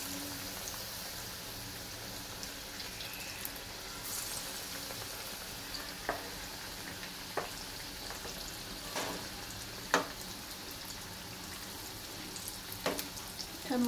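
Potato bhaji fritters fry in hot oil with a continuous soft sizzle, broken by scattered small pops and crackles.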